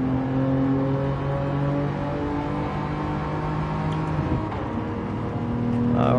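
Race cars starting at Monza in Gran Turismo 7, a steady sustained engine drone with several layered revving tones holding and shifting pitch, loud and continuous without talk.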